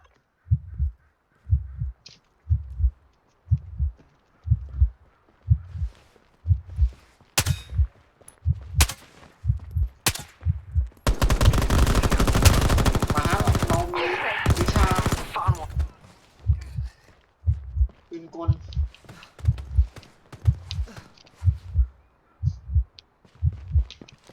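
Sustained automatic gunfire in the shooter game Veiled Experts, a dense roaring burst lasting several seconds between steady rhythmic low thumps and scattered sharp in-game clicks and shots.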